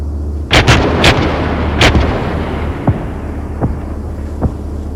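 Artillery rounds firing in a video game using Drongo's Artillery Mod: three loud close booms in the first two seconds, then several fainter distant thuds spaced out over a steady low rumble.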